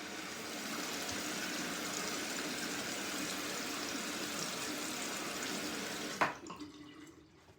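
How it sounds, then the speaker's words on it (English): Water running steadily from a tap while rinsing after a shave, a constant close hiss that cuts off near the end, followed by a few faint drips and splashes. "let me rinse up here"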